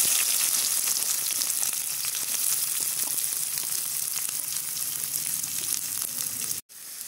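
Chopped onions sizzle loudly in hot oil in a kadai, a dense continuous frying hiss close up, cutting off abruptly near the end, with no talking.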